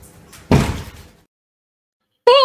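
A cat thumps into a glass patio door: a muffled voice, then one loud hollow boom that rings off and fades, followed by silence and a sharp ringing tone at the very end.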